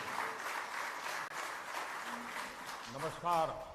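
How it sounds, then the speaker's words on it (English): An audience applauds at the SemiconIndia 2022 inauguration in Bangalore, giving steady, dense clapping throughout with a brief voice near the end. "Let's give a round of applause"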